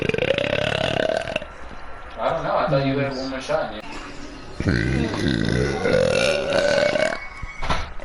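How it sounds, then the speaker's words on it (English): A woman burps repeatedly and loudly while gaming, the long croaking belches mixed with her chatter and a few spoken phrases. "can I stop burping?"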